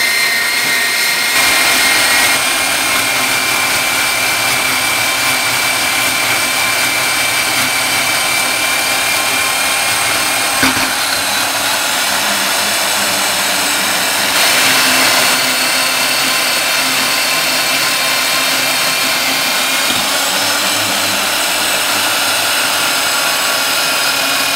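Lathe machining a small metal part for a front wheel speed sensor, a steady loud whirring grind with high-pitched ringing tones, running continuously with brief surges in intensity, no talking.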